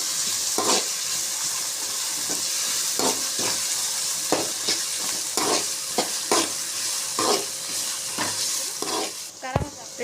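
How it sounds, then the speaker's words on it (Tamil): Onions cooked with a little salt sizzle steadily in a hot pan while a spoon scrapes and stirs in repeated strokes, close and loud, with a sharp clank near the end. "உப்பு லைட்டாக போட்டு வெங்காயத்தை நல்லா வதக்கணும்."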